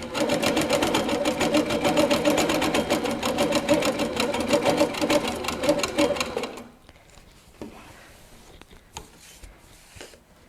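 A Handi Quilter Capri stationary stitch-regulated longarm quilting machine stitches with a fast, loud, even mechanical chatter for about six seconds, then stops, leaving quieter handling and rustling of the quilt.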